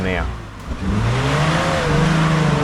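A 4WD vehicle engine revs on an off-road obstacle while the front axle tramps, a loud rising and falling engine drone with a wavering pitch, with a brief dip before building again under a voice talking.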